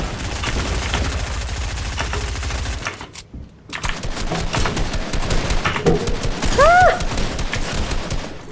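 Automatic gunfire in a video game match, a dense rattling burst for about three seconds, a brief pause, then more scattered rapid shots mixed with game effects and a rising electronic chirp, loud and close.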